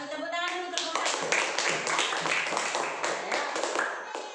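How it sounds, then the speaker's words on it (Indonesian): A classroom group of students claps their hands together for the first group after a presentation, a dense run of sharp overlapping claps at close range that holds steady for several seconds. "Tepuk tangan dulu kelompok 1."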